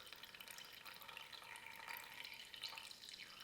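Water drizzles at low pressure from a small tube, a faint, steady trickling hiss with light splashy flecks, close by and with no talking.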